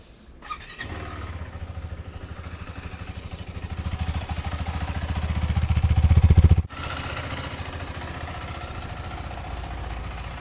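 A 2024 KTM 390 Adventure motorcycle engine fires up close by after a brief crank, settles into a steady idle, revs climb to a loud peak, then cut abruptly back to a steady idle.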